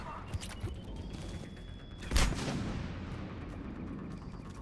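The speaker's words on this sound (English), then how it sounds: "That is a grenade." A grenade explodes in the Mass Effect 3 video game, a sudden loud boom midway through a busy bed of gunfire and combat noise, followed by a decaying rumble.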